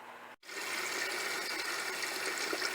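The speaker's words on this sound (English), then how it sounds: "I'm rinsing my potatoes now, soaking them for a while." Steady tap water pours and splashes over potatoes being rinsed in a kitchen sink, starting after a brief pause and running continuously at close range.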